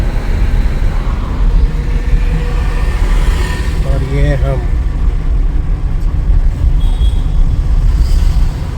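Car driving through the streets of Surat, its steady engine and road rumble continuous and close throughout, with a person talking over it.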